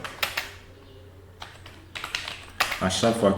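Bursts of clicking keystrokes on a computer keyboard, coming in short clusters with pauses, while a person speaks in French near the end.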